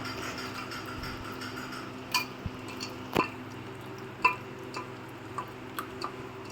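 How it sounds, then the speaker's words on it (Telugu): Chicken pieces being mixed with marinade of pepper, yogurt and other ingredients, soft wet squishes and occasional light clinks against the bowl, close and quiet, irregular over several seconds with no talk. "దీన్ని మ్యారినేట్ చేసుకోనికి చాలా బాగా కలుపుకోవాలన్నమాట"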